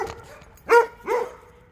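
A dog gives two sharp, close barks about half a second apart, loud and alone, while someone works on a broken rear window of a Trailblazer.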